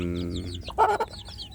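A mother hen and her free-range village chicks cluck inside a brooding box, soft low clucks followed by a short louder burst of calls, close by.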